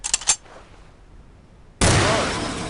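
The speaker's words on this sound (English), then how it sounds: "Pick up the pistol in the first firing range booth, aim it at the target, and fire away." A pistol fires at a target in a firing range booth in the Soldier of Fortune 2 video game: a quick cluster of sharp shots, a quiet pause, then a sudden loud, hissing roar that holds to the end.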